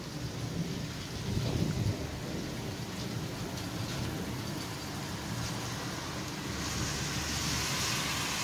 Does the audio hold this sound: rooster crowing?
no